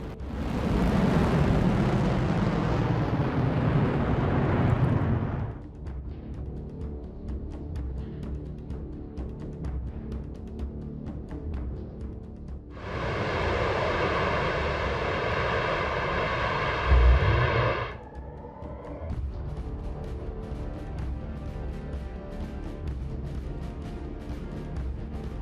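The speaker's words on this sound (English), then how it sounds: "an unmanned test flight failure where the booster suffered a mid-flight engine failure" A Blue Origin New Shepard booster on an unmanned test flight with a mid-flight engine failure gives a loud, broad roaring rumble that fades, then a harsher tonal burst with a sharp thump, before a lower, steady rumble continues.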